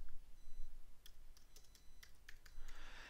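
Computer keyboard typing for a blog post, a few scattered soft key clicks over faint room hiss, quiet and close, with no talk.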